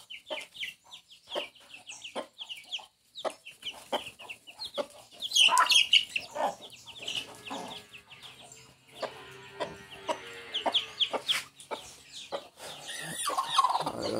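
Hens and chicks being let out on a farm, with close, repeated clucking and peeping calls in irregular bursts, some louder squawks, and faint background noise.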